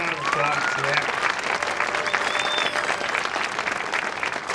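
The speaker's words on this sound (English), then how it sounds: "Give them another round of applause for that." An audience applauds steadily after a sixth grade school band's winter concert in a junior high, dense and sustained clapping filling the room, with some voices faintly mixed in.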